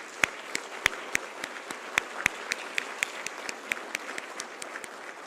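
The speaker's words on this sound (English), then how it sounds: "can you have a very, very big round of applause for everybody who was here?" Sparse, scattered clapping from an audience at a disability-inclusion livelihoods event, individual sharp claps ringing out irregularly over a few seconds rather than a full ovation, moderately close with no talking.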